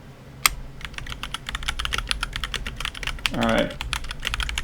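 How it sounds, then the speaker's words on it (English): Rapid typing on a computer keyboard, close and clattery with dense irregular keystrokes throughout, a sharp tap early on and a man's brief spoken word partway through. "I need to get better at typing."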